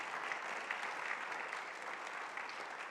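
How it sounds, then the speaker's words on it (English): A church congregation at a Sunday service applauds its climate action team with soft, steady clapping heard from a distance, faint and even throughout. "Let's hear a big round of applause for the CAT team."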